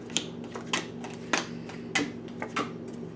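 Oracle cards are shuffled in short, crisp riffles, about five quick bursts at a steady rhythm, close up and fairly quiet with no talking.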